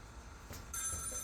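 A telephone bell starts ringing partway through, a faint, high electronic trill heard briefly over a low room hiss.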